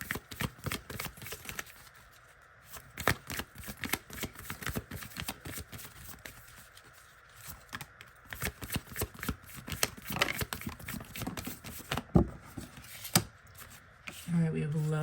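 A tarot deck, the Sacred Destiny cards, is shuffled by hand in quick repeated riffling bursts of papery flutter and soft taps, close and continuous with brief pauses.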